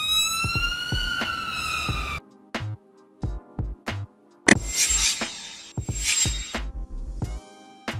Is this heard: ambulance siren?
yes